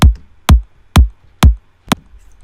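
Electronic music kick drum sample, already processed, struck four times at a steady beat with a softer fifth hit, each a punchy low thump with a short click on top, heard alone.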